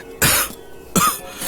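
Two sharp coughs, close and loud, separated by a short pause, with a fainter third cough starting at the end.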